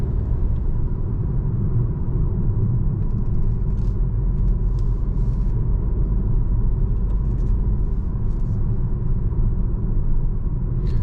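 A 2024 Lynk & Co 01 plug-in hybrid's 1.5-litre turbo petrol engine hums steadily with low road rumble while driving at night, a continuous droning whir with no talking.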